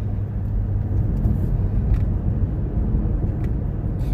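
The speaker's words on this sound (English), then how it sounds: "Oh, the Mexican truck." A Mexican food truck rumbles past outdoors, a steady low engine drone that holds at a fairly constant level for the whole stretch with no talking over it.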